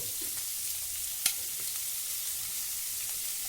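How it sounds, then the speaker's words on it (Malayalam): Sliced onions frying in a pan for a Kerala-style beef roast, a steady broad sizzle throughout with one brief clink near the middle. "സവാള നമുക്കിതുപോലെ അടർത്തിയിട്ട് കൊടുക്കാം."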